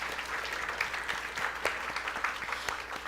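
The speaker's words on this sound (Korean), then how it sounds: "정말 감사하다는 인사로 우리 박수할까요?" A church middle-school youth congregation claps in thanks, a soft but continuous patter of many hands heard from some distance in a worship hall, with occasional sharper individual claps standing out.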